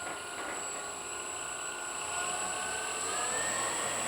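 Electric motors of a Dynam Messerschmitt Bf-110 RC model plane throttled up, a thin high-pitched whine with a steady tone that rises gently in level and pitch toward the end, fairly faint and close.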